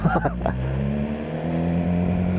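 A BMW S1000R motorcycle rumbles along while being ridden, its engine a steady low drone after a brief burst of voice at the start.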